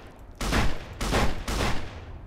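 Three bursts of rapid weapon fire in the Fallout New Vegas video game, each lasting about half a second with short pauses between, loud and close, with no talking.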